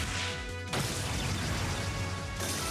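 Armor Breaker attack effect in Trails of Cold Steel, a loud broadband crash that bursts in and sustains as a dense noisy impact roar before cutting off abruptly.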